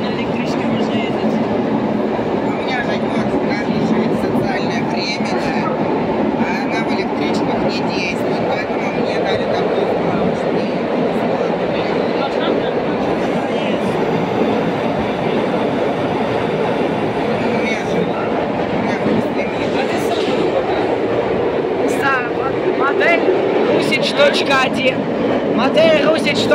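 A Moscow-type metro train, model 81-740.1 from 2007, rumbles steadily along the track with clattering wheels and a constant roar, voices faintly audible beneath the noise throughout.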